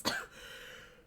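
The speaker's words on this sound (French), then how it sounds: "Je pense que je vais faire que tousser pendant la vidéo." A woman coughs once, a short throaty burst close to the microphone in an otherwise quiet indoor room, followed by faint background hiss.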